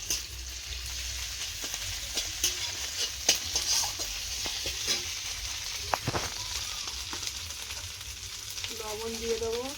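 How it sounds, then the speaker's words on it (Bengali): Ginger paste frying with onions in oil in a wok, a continuous nearby sizzle broken by clicks and scrapes of stirring, with a faint voice briefly audible near the end. "এবার আদা বাটাটা দিয়ে দেবো।"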